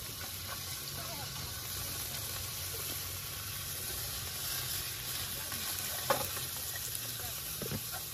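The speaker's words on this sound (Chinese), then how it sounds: "继续煎" Food pan-frying on a cooker powered by a portable power station at a campsite, giving a steady, even sizzling hiss throughout, with a few faint clicks and a hint of voices in the background.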